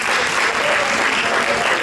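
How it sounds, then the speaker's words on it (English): A church congregation claps hands in praise during a gospel consecration service, a dense, loud and steady wash of applause. "Come on, let's clap our hands and give God praise one more time."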